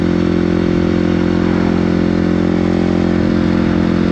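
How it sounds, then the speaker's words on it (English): A motorcycle engine hums steadily while riding at 40 mph on an open road, loud and close with a constant droning tone and wind noise, no talking. "If it's your first time riding a motorcycle, don't sweat it."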